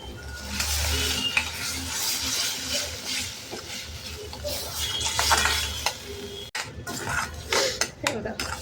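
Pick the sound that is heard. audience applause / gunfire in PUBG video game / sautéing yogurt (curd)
sautéing yogurt (curd)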